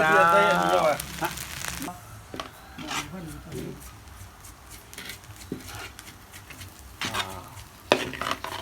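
Fried rice being stir-fried in a big wok, made very spicy and filling the pan: scraping, stirring rubs and light sizzle run steadily throughout, with brief voices near the start and a few sharper clanks later.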